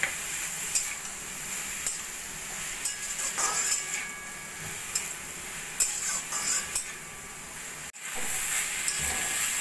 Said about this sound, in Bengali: এবার আমি লো ফ্লেমে ভাজা ভাজা করে নেব।